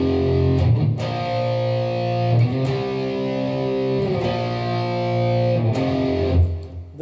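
Heavily overdriven electric guitar power chords ring out loud and sustained, changing in a steady rhythm with brief gaps between strums.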